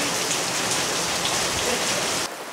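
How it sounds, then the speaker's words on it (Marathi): Heavy rain falls steadily in a dense, loud hiss of drops striking surfaces, continuous and close, then drops off sharply near the end. "पाऊस खूप पडतोय आणि मस्तपैकी मी आज भजी केली उडदाच्या डाळीची"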